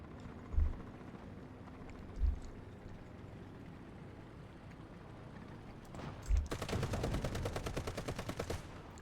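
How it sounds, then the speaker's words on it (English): Gunfire in War Thunder at night: a few separate heavy booms a second or so apart, then a rapid burst of machine-gun fire rattling steadily to the end, all fairly faint over a low engine hum. "I just like shooting at him."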